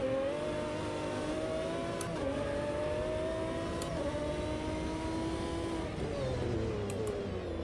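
A Lamborghini engine in the Automobilista 2 sim racing game revs hard and continuously, its pitch climbing and dropping through gear changes, loud and close with no talk over it.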